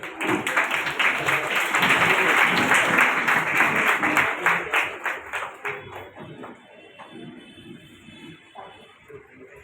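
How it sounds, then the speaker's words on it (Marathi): A crowd at a student awards ceremony bursts into loud, dense applause that builds, holds, then gradually fades to a few scattered claps. "जोरदार टाळ्या होऊन दे"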